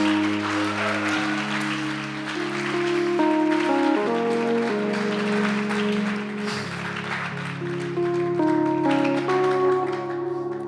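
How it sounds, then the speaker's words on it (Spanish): A church congregation claps in steady applause under sustained organ-like chords that shift pitch every few seconds, the clapping moderate and spread through the room. "Un aplauso para ti y para tu familia."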